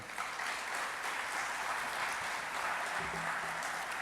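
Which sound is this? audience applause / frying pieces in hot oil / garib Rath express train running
audience applause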